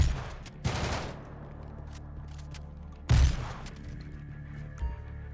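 A suppressed shotgun in GTA V fires two loud blasts about two and a half seconds apart, each followed by a short decaying tail, with a fainter thump near the end and no voices.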